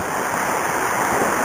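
Freeway traffic on the far side of a wall along a creek trail makes a constant broadband roar, steady and moderately loud, with a faint hiss of wind.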